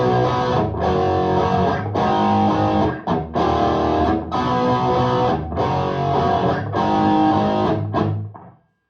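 Electric guitar through a Mesa Badlander 25 head in crunch mode, loud gritty distorted chords strummed in sustained blocks with short gaps between, ending in a quick fade to silence.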